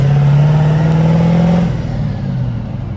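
A truck with a 6.0 engine, trailer unhooked, accelerates hard in third gear, its loud steady engine drone rising in pitch and then easing off slightly as the revs settle, close and continuous.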